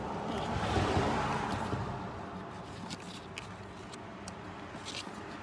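Engine oil drains in a steady, close gushing trickle from a Mercedes SLK R170 during an oil change, strongest at first and then settling into an even, continuous flow with no voices.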